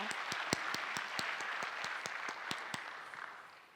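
A small audience at a kathak dance academy recital applauds a musician, soft scattered clapping with a few distinct sharper claps, fading toward the end.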